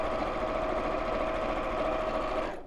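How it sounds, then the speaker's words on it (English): A sewing machine sews down a ribbon strap on a dog treat bag, giving a continuous, even motor hum with rapid needle chatter, close and alone, stopping right at the end. "I'm just going to sew down both sides"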